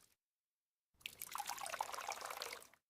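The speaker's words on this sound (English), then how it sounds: "I am watering the plants." Water trickles and pours steadily from a can onto houseplants for nearly two seconds after a brief silence, close and moderately loud, with no voices.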